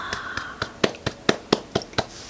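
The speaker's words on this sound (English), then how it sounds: "Let's clap for Llama Llama" Hands clapping at the close of a children's read-aloud, about nine sharp, evenly spaced claps in a steady rhythm, close and clear with no talk over them.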